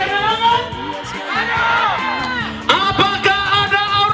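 A crowd at an outdoor campaign rally in Teluk Duairi, Papua, shouts and cheers loudly over amplified music, with a burst of whoops and yells partway through.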